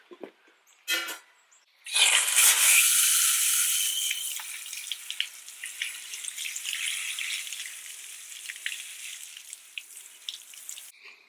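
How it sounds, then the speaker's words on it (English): Running water rinses metal impact wrench parts outdoors, a loud hissing spray that bursts in after a couple of faint knocks and then continues as a steady, slightly softer splashing stream. "take it outside, rinse them, dry them"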